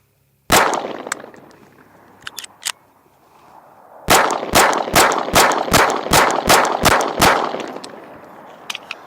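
A Canik Prime pistol firing 9mm hollow point rounds: one loud shot, two quieter pops, then a pause before a rapid string of about nine sharp, evenly spaced shots with ringing tails, close and loud outdoors.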